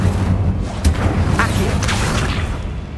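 An Incendio fire spell is cast in Hogwarts Legacy, a loud whooshing burst with a sharp pop and rumbling boom over busy game ambience.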